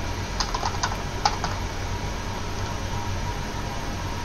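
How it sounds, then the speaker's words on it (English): A brief burst of keyboard typing clicks, a handful of light keystrokes near the start, sits under steady broadband hiss before fading to just the noise floor, during a Minecraft session. "God, what am I even typing?"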